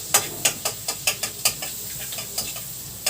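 Chopped garlic, five to six cloves, cooking in a pan while being stirred, with a steady soft sizzle and repeated sharp scraping taps of a utensil against the pan, close and alone.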